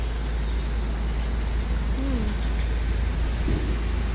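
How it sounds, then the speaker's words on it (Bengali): Heavy rain pours steadily during a cold winter spell in Europe, a dense, even hiss that stays loud and unbroken throughout with no voices. "অনেক জোরে বৃষ্টি হইতাছে"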